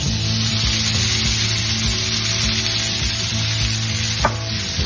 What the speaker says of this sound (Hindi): श्रिंप्स हमारे बहुत अच्छे तरीके से फ्राई हो रहे हैं